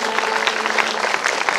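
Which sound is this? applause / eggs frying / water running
applause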